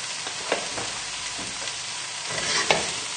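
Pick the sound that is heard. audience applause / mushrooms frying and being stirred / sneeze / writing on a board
mushrooms frying and being stirred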